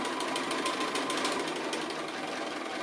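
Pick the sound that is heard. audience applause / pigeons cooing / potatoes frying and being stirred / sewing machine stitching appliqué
sewing machine stitching appliqué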